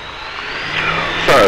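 Light aircraft engine at full power during takeoff roll, a steady mid-pitched drone that builds gradually and surges louder near the end.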